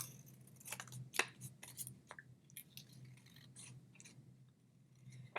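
Scissors snip along a paper border, several quiet, irregular cuts close by, with soft rustling of paper between them.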